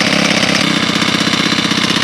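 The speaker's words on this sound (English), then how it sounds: "So we'll just let this warm up, let the oil migrate around in the engine." A four-stroke grass trimmer engine warms up at a steady idle, a loud, continuous close-up drone with a rapid, even pulse and no talking.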